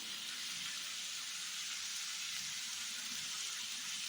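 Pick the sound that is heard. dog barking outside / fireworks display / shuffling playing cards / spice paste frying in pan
spice paste frying in pan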